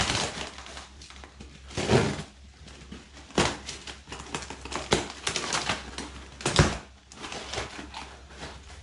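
A cardboard parcel box holding Honda Wallaroo parts is torn and pulled open, giving sharp scattered crackles, rips and thumps at close range, with a few louder bursts and no talking.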